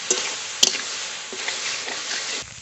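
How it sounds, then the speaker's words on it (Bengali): Cauliflower mash with ground spice paste frying in a pan and being stirred, a steady close sizzle with a few sharp scraping clicks of the spoon, no voices. "এবার ভালো করে ভেজে নেব ফুলকপির সঙ্গে"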